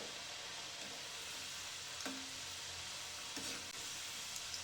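Potato french fries, parboiled in water, frying in a pan of hot oil, a soft, steady sizzle and bubbling heard close, with a few faint clinks of a utensil.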